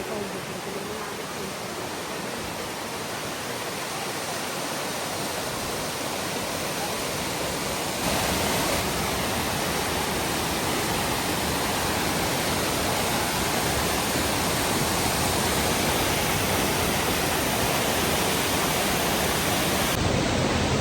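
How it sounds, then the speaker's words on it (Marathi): Twins waterfall beside the Gangtok to Lachung road pours in a dense, steady roar of falling water, loud and close, unbroken for the whole stretch. "आपण चाललोय ट्विन्स धबधबा बघायला ट्विन्स वॉटरफॉल"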